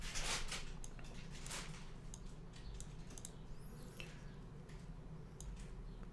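Quiet typing on a computer keyboard at a desk, soft scattered keystroke clicks in short bursts over a steady low hum, faint and close.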